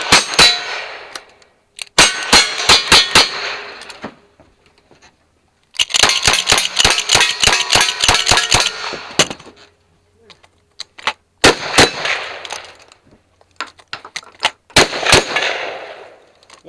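Rapid bursts of pistol, rifle and shotgun fire at a shooting match, loud sharp shots in fast strings separated by short pauses, with metallic clangs of steel targets ringing after hits.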